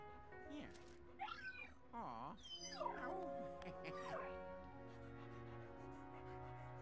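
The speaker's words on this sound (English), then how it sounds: "So he has a pet ghost dog, huh?" A ghost dog in the video game Luigi's Mansion 3 gives a run of whimpers, yips and whiny pitch-sliding cries, close and fairly loud, over a tonal game music bed.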